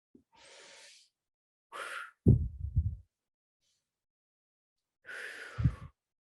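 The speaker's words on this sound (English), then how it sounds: "take a couple deep breaths" A few slow, deep breaths are drawn in and let out one after another, close and soft, with short quiet gaps between them and no talking.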